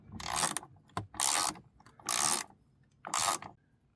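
A ratchet with a 10mm socket turning the nuts on a 1999–2002 Chevy Silverado side mirror, four bursts of rapid close clicking separated by short pauses, with no talk.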